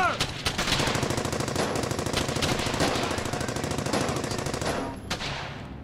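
Sustained machine gun fire in the World War II shooter Brothers in Arms: Hell's Highway, rapid dense bursts running almost without pause, loud and close, with battle noise layered over it before fading near the end.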